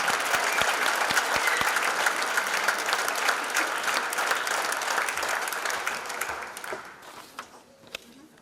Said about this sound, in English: And one more round of applause for all of our inductees tonight